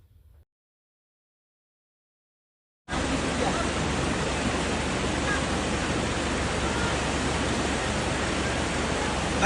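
Loud, steady rushing of flood water in the Vanki river near a bridge, a dense continuous roar that starts abruptly after a few seconds of near silence.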